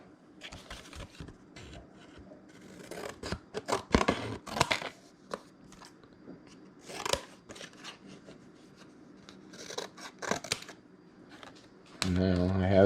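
Scissors cut through template material for a dashboard restoration on a broken 1995 Ford F150, giving a run of close, irregular snipping and scraping sounds with brief gaps and a louder rustle at the end.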